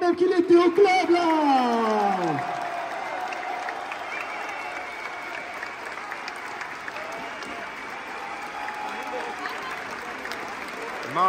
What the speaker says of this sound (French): Et les gars, on va l'applaudir, ça fait 11 ans quand même qu'il était au club là.